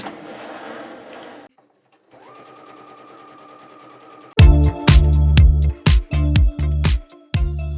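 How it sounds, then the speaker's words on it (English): A domestic sewing machine top stitches a fabric shopping bag: quiet motor hum at first, then loud, choppy bursts of rapid needle stitching starting and stopping several times, close up with no talking. "I'm going to skip that stage and just do the top stitch"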